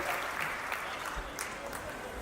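An audience at a Mahavir Jayanti poetry recital applauds in a fairly quiet, continuous wash of clapping that stays even and slightly distant throughout.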